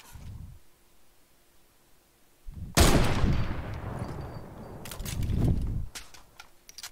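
Gunfire in Fortnite: a sharp, loud shot bursts out near the middle, decaying into a rumbling tail, then a cluster of quicker crackling shots follows, with quieter thuds and movement around it.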